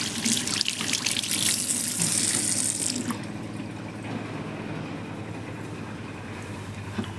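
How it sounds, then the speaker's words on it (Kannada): Water running while a plant is washed: a bright, full rush of flowing water for about three seconds, then a softer, duller trickle and splashing continuing close by. "ಚೆನ್ನಾಗಿ ಅದನ್ನ ಅಲ್ಲಿ ವಾಶ್ ಮಾಡ್ತೀನಿ"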